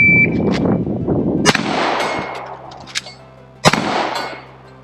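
Handgun fire during a one-reload-one shooting drill done without gloves: two sharp, loud cracks about two seconds apart, with metallic clatter from the reload between them.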